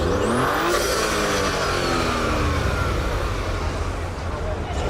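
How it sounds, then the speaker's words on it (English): A loud Mercedes C63 accelerates hard and pulls away from a car show, its pitch climbing quickly, with roaring engine noise filling the whole stretch. "Oh, one of the C63s is leaving."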